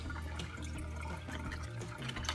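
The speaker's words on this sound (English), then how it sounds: "I drop it right down where the water flows in my tank and let it fizz" A dechlorinator tablet fizzing where water flows into a home fish tank, heard as dense, continuous close bubbling and splashing water.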